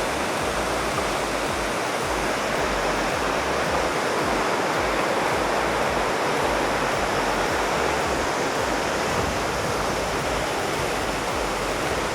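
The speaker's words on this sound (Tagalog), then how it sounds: "Finally, dito tayo sa Tukuran Falls." Tukuran Falls in Oriental Mindoro pours with a loud, continuous, even roar of falling water, close by and with no voices over it.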